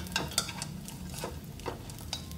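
Simmered squid being stirred in a pan, a soft scraping of the utensil against the pan with light sizzling underneath and a few sharper clinks, close and fairly quiet, with no talk.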